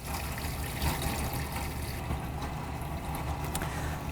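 Water from a hose pours steadily into a groundwater simulator unit beside a sink, a continuous close rushing and trickling flow with no voices.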